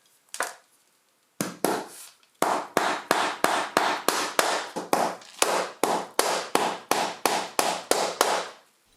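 Hammer blows drive nails into carpet gripper on a staircase, a brief pair of knocks followed by a long steady run of about eighteen evenly spaced, loud, close strikes with no talking.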